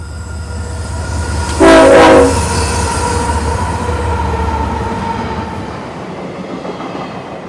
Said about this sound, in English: The whole train was designed to leave San Diego on game day, with the observation car, William Barstow Strong, bringing up the rear